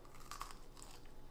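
Close crunching bites into crispy Trader Joe's hash browns, a few crisp bursts over roughly a second with no talking.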